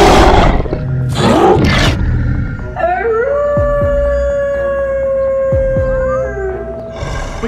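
A drawn-out, howling roar, like a werewolf, rises and holds for several seconds after a few loud thumps, fairly close and dominant, with no talking.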